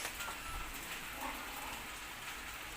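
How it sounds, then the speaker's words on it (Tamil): Heavy rain falls steadily as a dense, even hiss of wash and patter, constant and fairly close throughout, with no voices. "மழை வேற அதிகமாக வருது."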